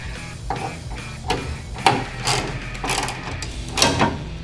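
Bolts being tightened on a Ford F100 tilt hood with a ratchet wrench, giving a series of close, clicking ratchet strokes in uneven bursts, with no talking.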